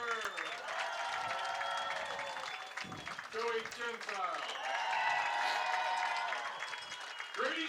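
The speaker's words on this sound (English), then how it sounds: "here they're cheering the seniors" Crowd noise at a high school football game, Holliston against Westwood, as spectators cheer and applaud the seniors; a steady wash of cheering and clapping holds throughout, with voices mixed in.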